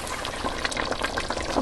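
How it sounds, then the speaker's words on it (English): Homemade ketchup simmering in a pot, a steady close bubbling and gentle popping hiss, continuous and even, no talk. "We're going to let it simmer for an hour and a half."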